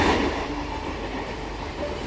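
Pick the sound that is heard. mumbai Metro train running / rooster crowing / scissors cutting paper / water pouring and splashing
mumbai Metro train running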